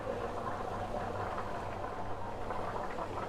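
Milk simmering in a pan with salt, oregano and chili flakes for white sauce pasta, a steady soft bubbling and hiss throughout at moderate level, with no voices.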